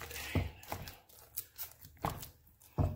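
Onions being chopped on a cutting board in a home kitchen, a steady series of close, crunchy knife strikes spaced roughly half a second apart, with no talking.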